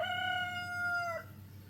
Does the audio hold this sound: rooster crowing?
yes